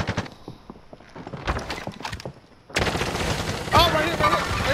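Bursts of video game gunfire crackle in quick, rapid volleys, louder in the second half, mixed with game effects and background noise.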